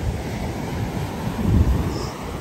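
Ocean surf rolling onto the sand at Ocean City beach, a steady wash of broadband noise with a swell of breaking water midway, mixed with wind buffeting the microphone.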